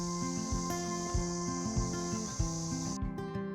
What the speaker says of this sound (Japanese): 昼間はセミたちが大合唱。